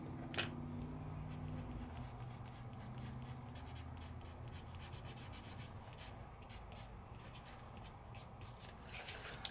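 Pencils scratch and rub across paper in soft, continuous strokes as lines of a truck drawing are traced, quiet and close, with faint taps now and then and no voices.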